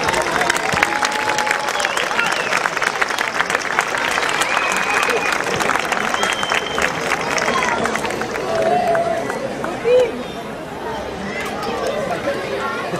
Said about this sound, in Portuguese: Um grande aplauso para eles.